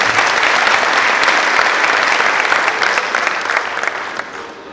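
A crowd at an evening cultural program gives loud, dense applause to honored families, a continuous wash of clapping that holds steady and then fades in the last second.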